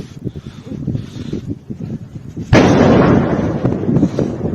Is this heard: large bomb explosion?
yes